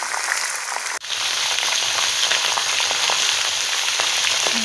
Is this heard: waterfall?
no